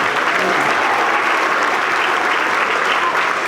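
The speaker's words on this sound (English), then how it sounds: "Can we give them another round of applause, please?" An audience at an awards ceremony for students breaks into a steady round of applause, a full, even wash of many hands clapping that holds for several seconds with no speech over it.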